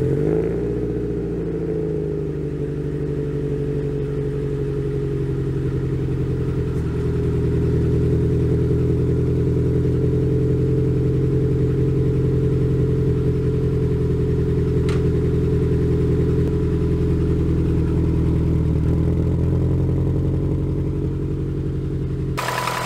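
A 2.5-liter Subaru Impreza 2.5RS GC8 that has sat on a trickle charger for days turns over and fires, settling into a steady, loud, close idle that runs evenly for over twenty seconds, with a slight rise partway through.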